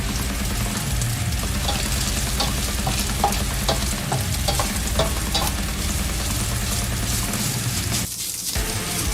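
Dehydrated vegan meat pieces fry in a non-stick pan, giving a loud continuous sizzle with scraping and stirring throughout and a brief quieter break near the end.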